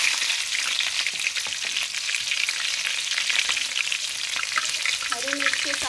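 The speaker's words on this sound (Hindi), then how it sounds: "हरी मिर्च के साथ ही साथ हम प्याज डाल देंगे। इसे फ्राई कर देंगे अच्छी तरह से।" Green chillies and onion fry in hot oil with garlic and asafoetida already in the pan: a loud, steady sizzle runs throughout, with occasional light stirring clicks.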